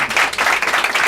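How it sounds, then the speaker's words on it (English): A studio audience applauds a panel at a city leadership discussion, brisk continuous clapping from a crowd, close and steady over a brief stretch. "Can you give this great panel a round of applause?"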